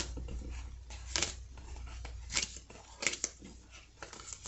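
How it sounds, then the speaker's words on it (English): Tarot cards being pulled from a deck, soft papery slides and flicks repeating in short bursts over a quiet background hum. "So I'm going to pull 5 more cards."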